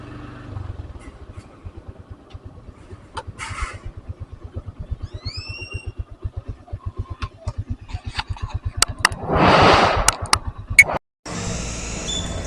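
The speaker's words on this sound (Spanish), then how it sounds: "voy a buscar un lugar donde estacionar la motocicleta" A motorcycle rides slowly through a town park area in Quezalguaque, Nicaragua, looking for a parking spot; its steady low engine thumps continue throughout, with a few brief revs, a louder burst of noise near the end, then a short cut.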